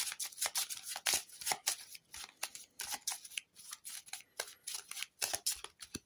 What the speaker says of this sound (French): Donc on va devoir prendre la première du paquet,